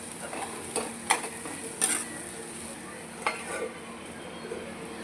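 Fish mash with a torn bay leaf frying in a covered pan, a soft low sizzle under several sharp clinks and scrapes of a utensil against the pan.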